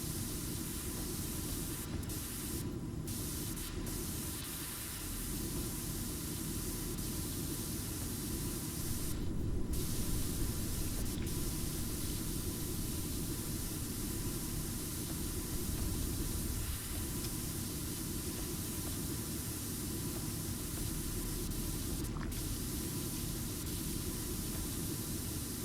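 A pressure washer in PowerWash Simulator sprays in one unbroken, loud hissing rush that fills the whole stretch, with only a few brief tiny interruptions and no voices.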